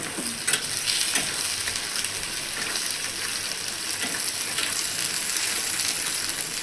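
Potatoes frying in a pan with slit green chillies and onion, stirred as they cook; a steady, close sizzle runs throughout with faint scraping of the spoon now and then.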